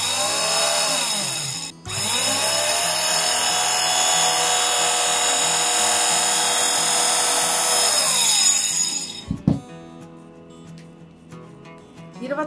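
A multi-material cutting machine slices through fabric with a loud, high, steady whine that runs for several seconds, stops briefly, resumes, then winds down and gives way to quieter mechanical clicks.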